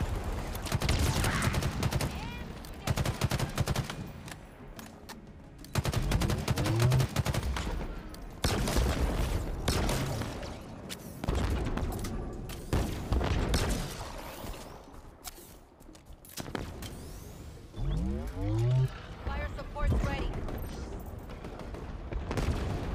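Heavy, continuous gunfire in the Halo Infinite campaign, with dense bursts of automatic weapons and loud explosive blasts overlapping throughout, near and loud.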